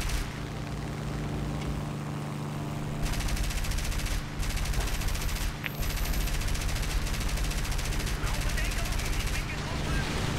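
Rapid bursts of aircraft machine-gun fire in the War Thunder flight game, a steady stuttering rattle over a constant engine drone, with someone talking intermittently.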